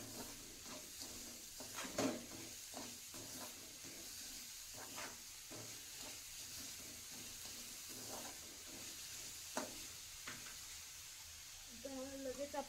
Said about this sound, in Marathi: हलवत राहायचे।